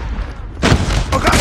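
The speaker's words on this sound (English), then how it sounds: "I got shot!" Gunfire in the mobile shooter game Call of Duty Mobile, a sudden loud burst of booming shots after a quieter moment, close and harsh.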